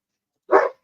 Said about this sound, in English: the dogs are barking again